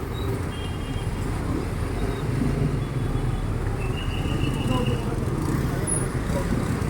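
Heavy evening road traffic at a traffic light on Top Avenue makes a dense, steady roar of car, bus and motorbike engines, and a voice talks over it.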